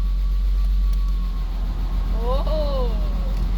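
A BMW E30 engine idles at close range with a steady low hum while the air conditioning kicks on and the revs shift slightly. A voice briefly talks over the engine.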